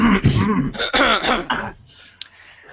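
A man on a retro computing podcast clears his throat loudly and close, a couple of rough guttural bursts over the first second and a half, then quiet room noise with a faint tap.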